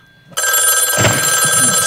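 A telephone rings loudly and close with a continuous bright electronic tone that starts abruptly and carries on, with faint background noise beneath it.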